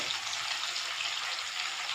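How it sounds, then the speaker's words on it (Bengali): Kajla fish frying in a pan: a steady, close, hissing sizzle that holds without a break, with no talking. "মাছটা ভাজা হচ্ছে"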